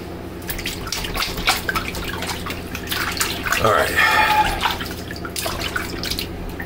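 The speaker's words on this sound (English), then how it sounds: "Kid splashing in the water." Water sloshes and splashes as a child plays in it, a steady wet churning close by with brief louder splashes and some faint voice-like sounds mixed in.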